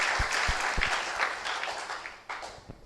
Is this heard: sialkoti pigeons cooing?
no